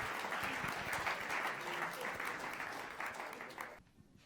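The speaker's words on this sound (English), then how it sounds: "Round of applause for Bruce." An audience applauds in a full, steady round as Bruce Campbell comes up to the stage, and the clapping stops abruptly near the end.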